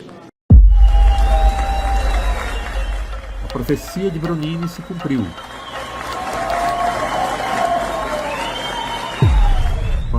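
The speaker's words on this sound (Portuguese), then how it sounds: "Argino foi ovacionado em um evento de gala organizado por políticos e expoentes do agronegócio mato-grossense" At a gala event in Sorriso, Mato Grosso, organized by politicians and agribusiness figures, a crowd cheers and applauds in a continuous roar, heard beneath a narrator's voice.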